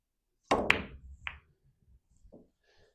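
A pool ball shot on a home pool table: a sharp cue-ball knock followed quickly by a second clack, then a softer thud and faint rolling taps fading away in a quiet room.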